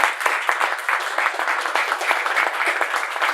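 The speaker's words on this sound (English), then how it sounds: "So I think that deserves a round of applause." An audience claps at a college articulation event, a brisk, steady round of applause with individual claps audible in the mix, close and moderately loud throughout.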